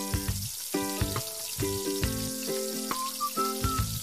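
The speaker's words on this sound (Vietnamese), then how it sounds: "Mình chiên với lửa lớn luôn bởi vì cá rất là nhanh chín." Basa fish fries in hot oil over high heat, a continuous hissing sizzle running beneath a loud melodic music track.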